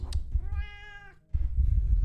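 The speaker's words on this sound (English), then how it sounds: "Tiny cat noise." A cat gives one clear, drawn-out meow, close and distinct, with low background rumble and handling noise before and after it.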